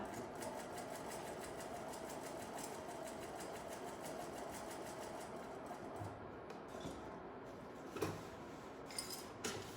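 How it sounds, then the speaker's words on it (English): A sewing machine runs steadily, stitching a patch pocket onto a chest, a continuous close whir that falters near the end with a few sharp clicks. "Drop that sewing foot, getting rid of any little threads, and go ahead and sew."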